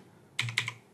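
Keystrokes on a computer keyboard entering a Windows Run command: a quick burst of close, crisp clicks after a short silence, then a second cluster of taps.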